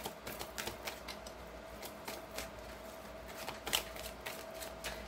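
Oracle cards being shuffled and drawn by hand, a quiet, close run of light papery flicks and taps in an irregular rhythm with no voices.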